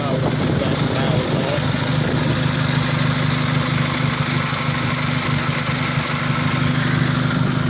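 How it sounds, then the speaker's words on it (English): A supercharged Chevrolet Cobalt SS engine idles close by with a steady, buzzing mid-pitched drone and constant vibration, running evenly with no clear rev rise. "Give it a quick rev."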